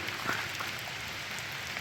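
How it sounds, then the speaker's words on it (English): Rain falls steadily in a forest, a dense even hiss of drops pattering on leaves and ground with faint scattered ticks, continuous and unbroken with no voices. "I love the sound of the rain in the forest anyways"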